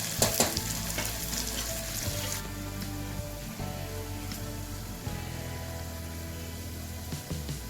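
Chopped onions fry with fennel seeds in a pan, giving a loud, continuous sizzle with crackling spatters and occasional scraping stirs, no talking.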